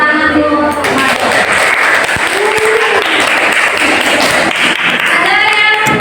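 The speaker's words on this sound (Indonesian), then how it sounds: "saya beri tepuk tangan dulu untuk Madon" Classroom applause for a student presentation group during an academic coaching session, a steady wash of clapping hands that runs the full length, with voices and murmurs mixed in underneath.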